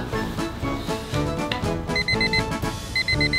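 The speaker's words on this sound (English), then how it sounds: "The cup will amplify the alarm so that I won't miss it." A phone alarm placed inside a cup rings out over a loud musical backing, its repeated beeps arriving in two quick bursts of four, bright and slightly resonant.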